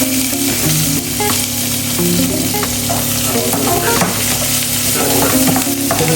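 Garlic sizzles steadily in a hot pan for chow mein while a utensil scrapes and stirs it, the frying close and continuous throughout.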